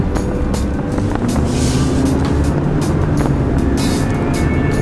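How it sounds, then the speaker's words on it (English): An old Ford F-150 XLT truck with a Triton V8 drives along, heard from inside the cab as a steady, loud low engine and road drone with no break. "Let's see how this old Ford truck drives"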